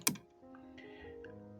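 A single sharp computer mouse click near the start, fairly close and clean, followed by a faint tonal hum with no talking.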